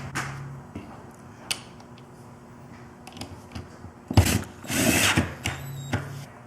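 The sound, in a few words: power drill driving small machine screws into a wall bed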